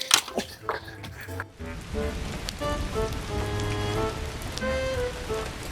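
Steady rain patters and splashes on a surface, with a few sharp knocks at the start and a voice-like tone rising over the downpour.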